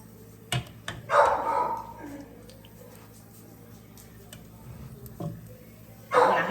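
A puppy in a home kitchen gives a few sharp, separate barks and yips spread over several seconds, fairly close, with quieter clatter and faint voice-like sounds between them.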